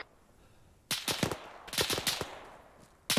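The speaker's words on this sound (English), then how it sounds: "Taking shots from 257." Gunfire in a Desert Storm military video game: after a quiet start, several loud bursts of rapid shots crack close by in clusters, with a final burst at the very end.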